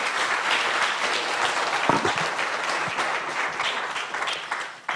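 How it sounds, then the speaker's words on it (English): An audience at the Kenya EdTech Summit applauds, dense sustained clapping from a large crowd that carries on evenly and fades slightly at the end. "Another round of applause for"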